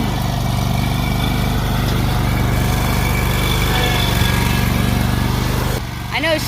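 Lawn mower engine droning steadily close by while cutting grass, loud and continuous before briefly dropping in level near the end, with some talk over it.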